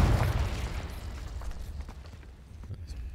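A Confringo spell explodes in Hogwarts Legacy, a deep booming burst at the start that decays into rumbling debris and scattered crackles.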